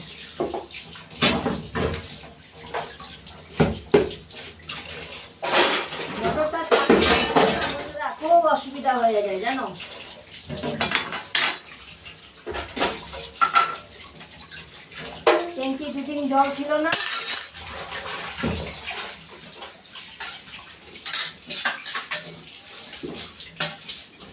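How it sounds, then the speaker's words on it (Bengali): Dishes and utensils are rinsed under running water from a tap, with splashing and intermittent clinks of pots and cutlery; voices and other household sounds come and go over the washing. "বাসন ধোয়া"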